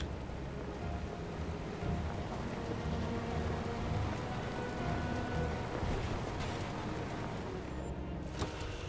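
Heavy rain pours in the video game Far Cry 2, a dense, loud, unbroken hiss with a low rumbling undertone like distant thunder, lasting throughout.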